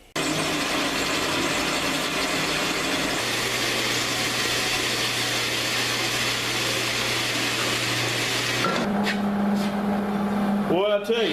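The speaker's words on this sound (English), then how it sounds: "I've got to cut this tubing off in the bandsaw now" Bandsaw cutting through steel tubing, a steady mechanical grinding whir with a low motor hum running continuously for most of the clip, the blade tone shifting partway through before the cut ends and the machine winds down.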